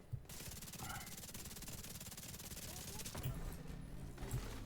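Rapid automatic gunfire in The Division 2, a sustained dense burst of shots heard fairly faint throughout, with a couple of heavier thuds near the end.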